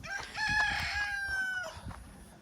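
A rooster crows loudly nearby in one long call, with scattered clucks and a noisy farmyard background around it.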